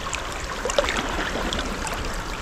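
Water swishes over rocks as a caught trophy fish is moved back and forth in it, a steady, close, rushing wash with small splashy gurgles throughout and no voices.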